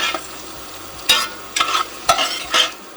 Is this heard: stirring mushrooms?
yes